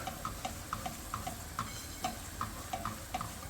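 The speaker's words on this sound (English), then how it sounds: "And you want to stir it constantly." A butter roux being stirred constantly in a pot on a stove for crawfish étouffée, with a soft steady sizzle and regular light scraping taps of the spoon against the pot.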